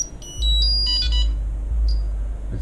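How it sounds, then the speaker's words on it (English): Electronic beeps from a Vortex 250 Pro racing drone just plugged in with a replaced upgraded motor, a few short high tones in bursts over a steady low hum, fairly close. "It's still making that beeping noise"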